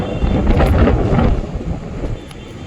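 Strong wind gusting at the start of rain, blowing hard across the microphone in a loud, rumbling rush that eases slightly toward the end.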